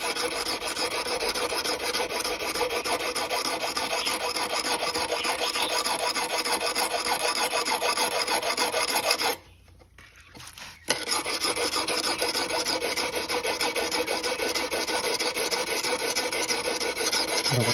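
A knife tang being shaped by hand with a file, a continuous close rasping stroke repeated steadily, with a brief pause near the middle before the filing resumes, no voices.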